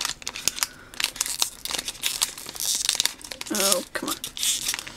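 A crinkly foil Pokemon booster card pack is torn open by hand, with sharp rips and rustling crackles close by.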